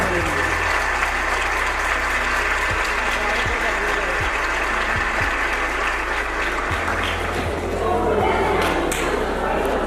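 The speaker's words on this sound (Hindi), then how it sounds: "जोर से ताली बजाकर प्रभु की स्तुति करेंगे।" A congregation at a Christian wedding ceremony claps loudly in praise, sustained dense applause with a few heavy thumps scattered through it, swelling slightly near the end.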